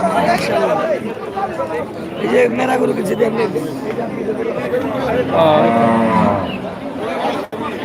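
A busy cattle market near Dhaka, where crowd chatter and bargaining voices dominate, with occasional low lowing from cows beneath the steady babble of people talking.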